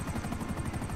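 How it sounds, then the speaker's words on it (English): A helicopter engine with a failing, dying sound makes a short, steady, rapid pulsing drone of blade chop at moderate loudness, with no voices. "The helicopter's dying on us."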